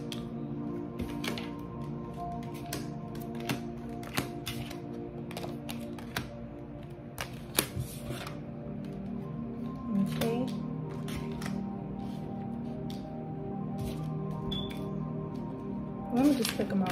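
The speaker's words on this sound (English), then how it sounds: "Let me spread these cards out right quick." Tarot cards being spread across a table, giving a run of soft papery clicks and slaps at a steady, unhurried pace, heard up close under a quiet room hum.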